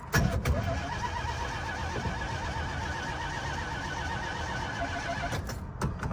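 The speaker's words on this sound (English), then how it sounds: "we're gonna crank her up, get it started, let it warm up before we go start trying to tune the car" A hot rod's engine runs loud and steady for about six seconds, with a rough, rumbling drone and a few sharp mechanical transients near the start and end. No one speaks.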